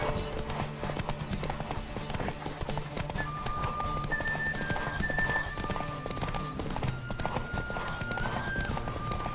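Horse hooves galloping at a steady clip-clop rhythm in The Witcher 3: Wild Hunt, loud and continuous under game music, with brief tonal accents and a possible faint whinny.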